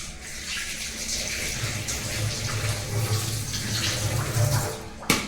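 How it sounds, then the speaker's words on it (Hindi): Fresh coriander is rinsed under a steadily running kitchen tap, giving a close, constant splashing rush that swells slightly toward the end and stops with a sharp clunk. "तो हमारा धनिया धुल गया है"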